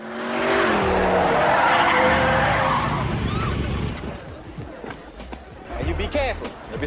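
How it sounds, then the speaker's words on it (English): A Ferrari pulls up with a long, loud tire skid that fades into engine noise, with a voice speaking over it afterward. "You pull up in a Ferrari."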